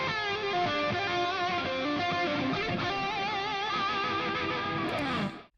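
A dense, sustained music mix runs through a Waves Studio Rack plugin chain with slightly different delays on left and right, the left shorter; it plays loud and continuous, then cuts off near the end.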